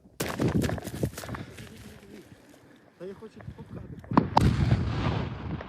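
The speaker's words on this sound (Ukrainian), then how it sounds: "Цей вибух зовсім невеликий." A blast of defective ammunition booms far off, with rumbling and debris, and people talk faintly in the background.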